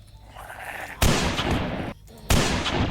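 Two loud, sharp gunshot bursts at about one-second intervals in the horror video game Granny 4, each followed by a broadband decaying tail over quieter background game sound.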